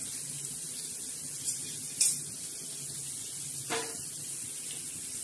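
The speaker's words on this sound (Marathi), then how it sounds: "आपण तळत आहे." Bangda mackerel coated in rava with chilli, turmeric and salt fries in oil in a pan, giving a steady, soft sizzle with a few sharper pops and spatters.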